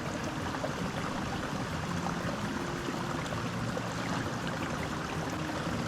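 A creek on an Arkansas hiking trail runs with a soft, continuous wash of water, steady and moderately distant, with no voices over it.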